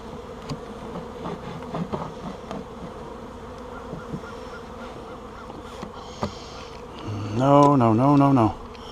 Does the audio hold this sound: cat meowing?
no